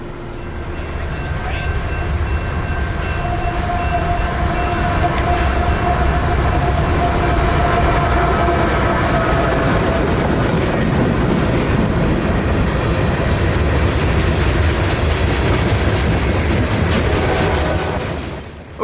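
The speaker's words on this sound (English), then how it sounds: "765 is an almost nightly local that carries pretty much all rock loads bound for Orlando's Taft" A local freight train hauling rock loads rolls past near Taft in Lakeland, Florida, a loud continuous rumble and rattle of wagons with a faint horn-like tone, holding steady for the whole stretch before easing off at the end.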